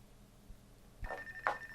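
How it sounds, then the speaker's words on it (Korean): After a quiet moment, a telephone starts ringing, a few short bright trills, fairly soft and close. "이때 들리는 불길한 전화벨 소리"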